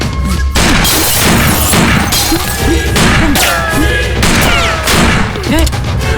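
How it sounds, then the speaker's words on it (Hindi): Loud, continuous gunfire rattles in dense bursts in a Hindi-dubbed film, mixed with crashing and shattering, the whole scene chaotic and intense. "चलो गोलियां बरसाओ।"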